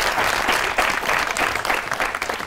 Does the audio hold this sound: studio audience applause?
yes